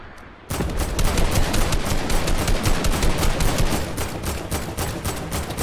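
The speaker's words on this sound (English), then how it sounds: "They're shooting at me." Rapid, sustained gunfire from the video game Loot Island bursts in after a half-second lull and keeps up as loud, dense automatic volleys with no talking over it.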